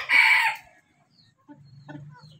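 A native chicken lets out one loud, harsh crow-like squawk up close, followed by a few soft, low clucks trailing off quietly.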